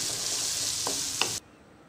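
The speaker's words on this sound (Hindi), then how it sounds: "तकरीबन 3 से 4 मिनट के लिए आपने ऐसे ही भून लेना है इसको।" Mixed vegetables with tomato and salt being stir-fried in a pan, a dense close sizzle with a couple of quick spatula taps before it cuts off abruptly into quiet after about a second and a half.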